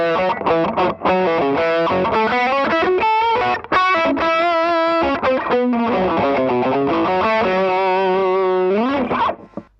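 An electric guitar, a Gibson with both pickups selected, plays through a DamonFX Dualgun effects pedal with heavy distortion and some feedback. Sustained, ringing notes and chords play loud and continuous for about ten seconds, with no talking.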